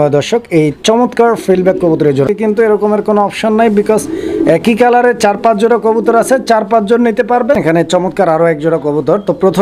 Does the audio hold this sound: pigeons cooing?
yes